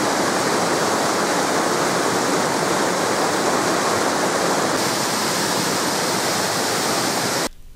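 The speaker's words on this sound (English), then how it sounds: "hikers cross Sabino Creek at the lower end of Sabino Canyon that flows from Sabino Dam" Sabino Creek flows at the lower end of Sabino Canyon in Arizona's Sonoran Desert, a steady, loud, close rush of water with no talk, ending abruptly.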